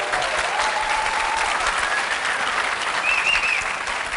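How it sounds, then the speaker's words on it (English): A conference lecture audience breaks into sustained, dense applause, many hands clapping steadily at close range for the whole stretch with no one talking over it. "Can we give him a round of applause, please?"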